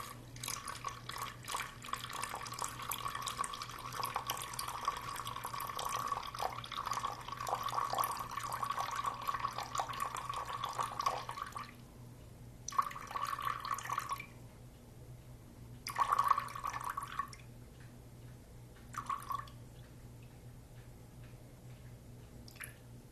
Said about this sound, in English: 350 grams of water, and just watch your scale